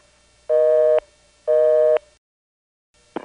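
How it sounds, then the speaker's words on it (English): Telephone vacant-level intercept on a 404-367 line reached over an O-carrier trunk from Commerce, Georgia: two loud, steady half-second buzzing tones with a pause between, then silence and the start of another tone. "This is a recording, 404-367, vacant level."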